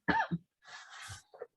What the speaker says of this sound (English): I was just going to cough.